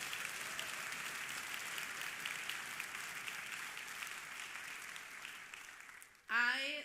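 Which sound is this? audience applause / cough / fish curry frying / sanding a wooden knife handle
audience applause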